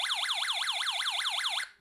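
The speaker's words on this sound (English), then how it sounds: "The first alarm sound plays when the current flows into the middle snap of the U2 module." A rapid, rising-and-falling electronic wail from a Snap Circuits U2 alarm IC module, repeating about eight times in a steady siren-like cycle before cutting off abruptly; loud and clean with no other sounds.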